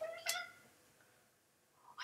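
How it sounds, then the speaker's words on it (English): A house cat gives one short, fairly close meow near the start, then the room settles into soft background hiss with a faint stir at the end. "God, my cat is right here."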